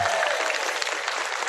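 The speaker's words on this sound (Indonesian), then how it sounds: "Tepuk tangan untuk Nganjuk." Brief, dense applause from an audience clapping for Nganjuk at a regional government award gathering, steady and full from start to finish.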